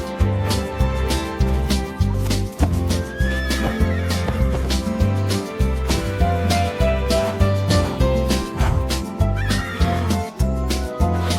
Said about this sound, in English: H for horse, gallop fast, run, run, run, zoom right past.